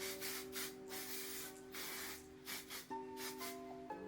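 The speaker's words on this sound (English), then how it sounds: "put some spray on it" Several short hissing spray bursts over a steady humming tone in the background, with a few pauses between puffs.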